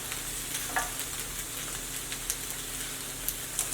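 Strips of tofu bacon fry in a pan for a vegan BLT, giving a steady, close sizzle with scattered small pops and crackles, no voices.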